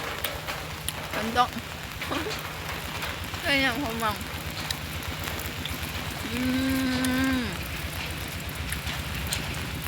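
A steady wash of rain falls outdoors, an even hiss throughout, with people talking and calling out over it.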